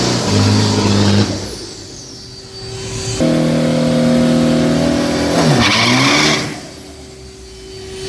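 A 3,000-class street car drag racing run at Bangkok Drag Avenue, its engine roaring loud and near, revving hard through gear changes with a whine, then a second high-revving pass before fading.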